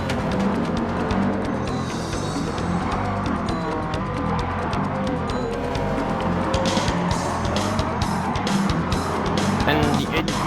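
Racing engines of a McLaren F1 GTR and a Porsche 996 roar steadily through a racing video game, with rising and falling revs and gear changes, while a commentator talks over the cars.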